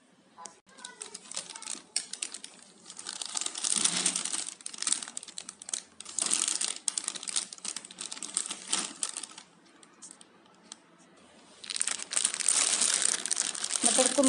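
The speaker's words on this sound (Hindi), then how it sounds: "अब इसे एक ज़िपलॉक बैग में पैक करेंगे" Crinkly plastic zip-lock bag rustling and crackling comes in bursts as it is filled with green peas, close and fairly loud, with short pauses between handling.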